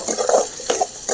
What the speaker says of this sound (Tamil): அப்படியே நல்லா வதக்கி விட்டுங்க சின்ன வெங்காயத்தை